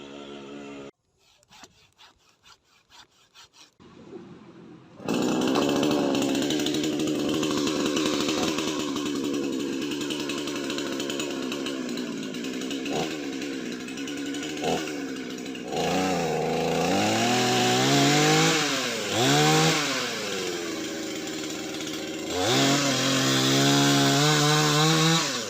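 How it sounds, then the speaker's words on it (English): A small handsaw cutting through wood at a house-building site in the Philippines, with steady back-and-forth rasping strokes that run loud and close for about twenty seconds after a quiet opening. "I came with my little handsaw, but I think I need a chainsaw."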